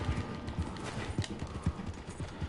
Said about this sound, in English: I like this part that you let the horse ride by itself